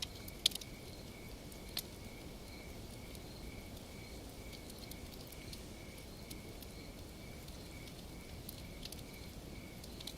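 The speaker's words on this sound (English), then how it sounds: "The crickets here call all night long." Faint crickets chirp in a steady, evenly spaced pulse against a quiet background, with a couple of soft clicks near the start.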